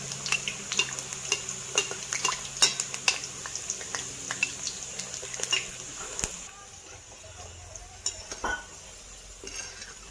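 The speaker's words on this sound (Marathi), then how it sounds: "आता असं एक एक सोडून घेऊ तेलामध्ये पुरे आपण." Puris slipped one by one into hot oil, with a steady soft sizzle under clinks and scrapes of utensils against the pan; the frying quietens midway while occasional metallic taps continue.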